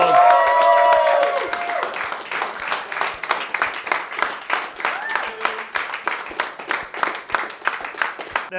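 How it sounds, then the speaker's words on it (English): An audience at a business team event breaks into a round of applause, starting under a brief voice and then continuing as steady, dense clapping with a lively crowd feel throughout. "let's give him a massive round of applause"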